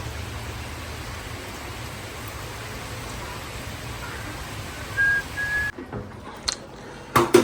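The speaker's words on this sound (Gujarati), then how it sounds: "વરસાદ ચાલુ જ છે પણ આમ ધીમી ધારે ચાલુ છે" Steady light rain patters evenly, a constant soft hiss that stops abruptly near the end, leaving a few scattered knocks and drips.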